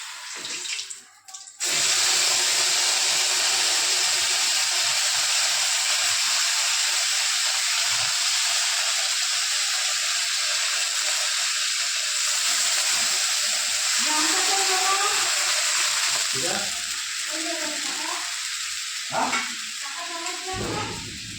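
A paste of ginger, cumin and green chili sizzles in a hot pan with a loud, steady hiss that runs almost the whole time, and a voice speaks briefly near the end.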